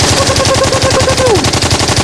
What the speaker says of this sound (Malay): Rasai tembakan kami.